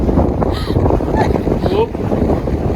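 Wind gusting across an open desert trail in Arches National Park, a steady loud rush of microphone buffeting throughout, with people talking faintly beneath it.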